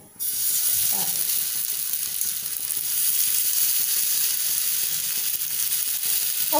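Malpua batter fries in hot oil in a home kitchen, giving a close, even sizzle that starts abruptly and hisses on without a break, with faint clinks now and then.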